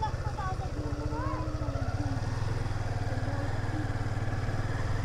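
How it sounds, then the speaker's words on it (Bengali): A motorbike engine putters and thrums steadily on a road, loud and close throughout, while a person talks over it. "আপনারা দেখে শুনে রাস্তার বাইক আসতেছে"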